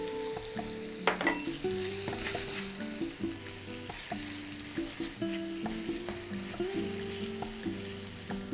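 Bulalo beef meat and tendon fry in a pan with caramelized tomatoes and onions for paella, giving a continuous close sizzle with light clinks of stirring over faint background music, with no talking.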